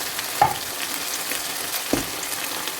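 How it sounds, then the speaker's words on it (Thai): Red curry paste being stir-fried with coconut milk for a prawn jungle curry, giving a soft steady sizzle with two brief louder scrapes of stirring, close and alone. "แล้วเราก็ผัดเข้า ด้วยกันอีกหนึ่งรอบเพื่อให้กะทิแตกมันนะคะ"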